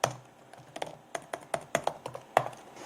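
Code typed on a computer keyboard: a sparse, irregular series of crisp key clicks, close and fairly quiet, heard alone without talk.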